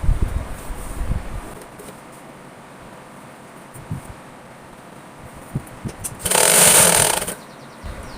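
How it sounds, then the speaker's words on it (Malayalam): A sewing machine stitches a folded hem on a churidar sleeve. Soft rustling and handling noises come first, then a loud, steady whirring run of about one second near the end. "കൈയുടെ ഭാഗം മടക്കി അടിക്കുകയാണ്"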